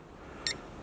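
A Syma X12S drone's remote control gives a single short electronic beep during trim adjustment, a brief bright tone alone over faint background hiss.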